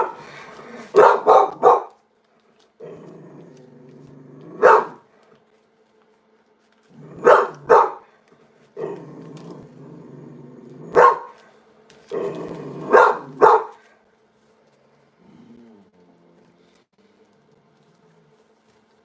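A dog growls low and steadily between clusters of sharp, loud barks. The barks come in bursts of two or three with short quiet gaps, recorded close.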